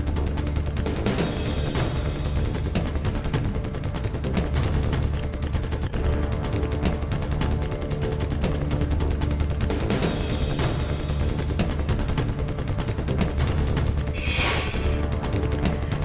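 Fireworks at the Golden Temple in Amritsar for Guru Angad Dev's birth anniversary, a loud, unbroken crackling barrage of rapid bangs that holds steady for the whole stretch.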